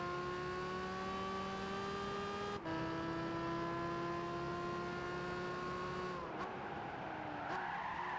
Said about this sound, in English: We need better tires, or we're gonna constantly keep sliding out like that.